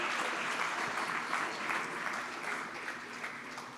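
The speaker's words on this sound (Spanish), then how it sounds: "denles un fuerte aplauso, por favor, iglesia" A church congregation at a Sunday service applauds in a sustained, even burst of clapping that fills the room without pause.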